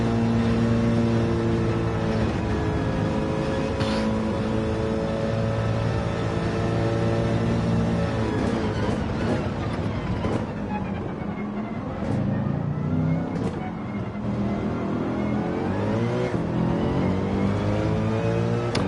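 A Nissan GTR engine in a racing video game drones steadily and loudly, its pitch climbing and falling through revs and gear shifts for the whole stretch.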